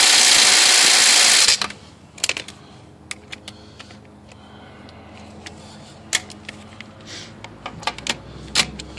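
DeWalt DCF885 and Milwaukee 2650 cordless impact drivers hammering away: a loud, dense rattling burst for about a second and a half, then a quiet stretch of scattered clicks and light clatter.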